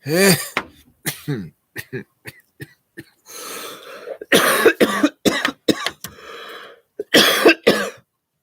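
A person coughs and clears their throat in a series of sharp, close bursts with short pauses between, some harsh and raspy, others shorter hacks.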